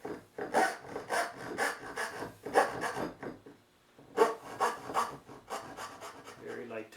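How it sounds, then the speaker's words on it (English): Dovetail saw cutting pine by hand, a series of rhythmic rasping strokes close by, with a short pause in the middle before the sawing resumes at the same steady pace. "So I'm compensating by pressing a little bit harder with the dovetail saw"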